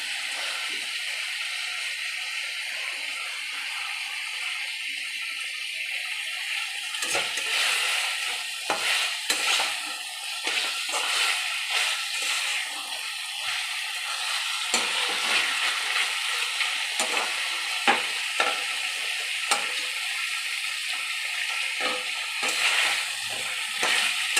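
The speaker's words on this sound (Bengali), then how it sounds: "দিয়ে ভালো করে কষাবো যাতে কাঁচা গন্ধটা চলে যায়।" Fish heads and spices stirred and sautéed in a pan, a long steady sizzle punctuated by frequent scraping and clinking spatula strokes that grow busier midway, with no voices.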